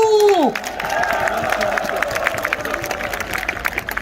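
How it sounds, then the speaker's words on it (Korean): Crowd applause and cheering fill the space at a political party rally in Gumi, South Korea, steady and dense, after a brief rising tone at the start, with scattered whoops over the clapping. "우리 윤석열 대통령한테 힘을 실어주는 힘찬 박수 한번 보내주시죠."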